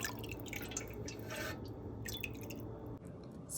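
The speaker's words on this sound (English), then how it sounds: "So we've added the fragrance oil" Fragrance oil drips into melted candle wax, faint close drips and small liquid splashes scattered across a quiet background.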